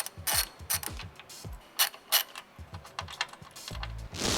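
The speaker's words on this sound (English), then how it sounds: "I'm gonna take these 2 bolts off" A hand ratchet loosening the bolts of a running board mount on a first-generation Rivian R1T pickup, giving several quick bursts of close, crisp clicking with short pauses between them and no voices.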